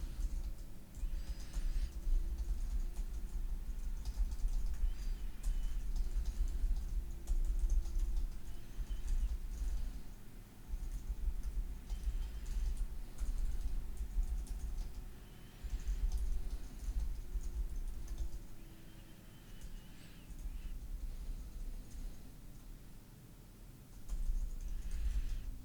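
Keyboard typing during essay writing: faint, scattered keystroke clicks buried under a steady low hum and room rumble, with no voices.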